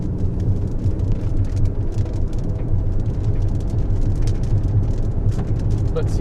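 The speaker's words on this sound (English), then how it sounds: "you can see the rain starting to fall in front of me" Rain begins to fall during a storm in Southeast Minnesota, heard from inside a vehicle on the interstate as a dense steady patter over a loud low road rumble.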